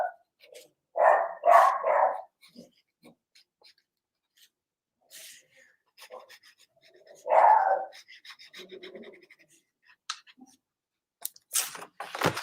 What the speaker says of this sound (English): I swear I'm going to kill that dog.